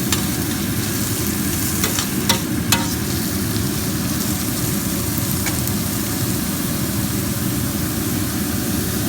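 Chopped onion sautéing in a pan for a button mushroom coconut cream curry, giving a steady, dense sizzle throughout with a few brief clicks of stirring, near and loud, without any voices.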